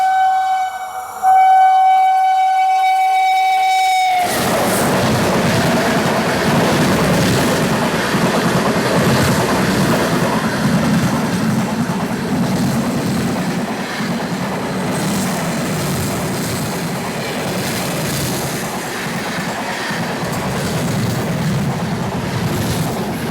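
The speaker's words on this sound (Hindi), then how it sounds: "crossing Manmad Kacheguda Ajanta express" A train horn sounds for a few seconds, then the Manmad–Kacheguda Ajanta Express roars past at an Indian railway crossing with a loud, sustained rush of wheels and rattling coaches.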